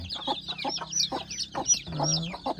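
Four Rhode Island Red chickens on a farm clucking close by in a continuous, busy run of short clucks and murmurs, with no one talking.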